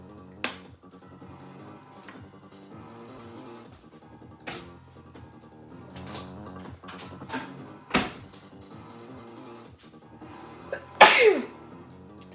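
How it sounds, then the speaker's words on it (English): A single sharp, loud human sneeze near the end, after a quieter stretch of kitchen clatter and light clicks while pumpkin soup is being made. "That was not a nice sneeze."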